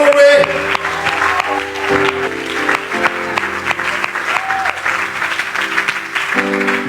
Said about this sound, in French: Clap for the word of God.